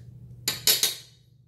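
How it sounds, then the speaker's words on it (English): A butter knife scrapes pound cake batter off a spatula in three short scratchy strokes, each a bright burst that fades, close up over a low background hum. "Kind of scrape my batter off this spatula here instead of using my fingers"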